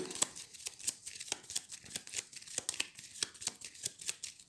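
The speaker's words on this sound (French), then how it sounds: "je mélange sous la table" A deck of game cards for Space Hulk Death Angel being shuffled beneath a table, a rapid run of crisp riffling flicks and slaps in an irregular rhythm, close and fairly quiet, with no talking.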